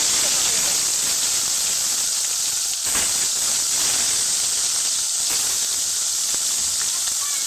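Koi fish frying in hot white oil in a pan, a loud, steady hiss of sizzling that runs unbroken throughout, with only slight swells in intensity.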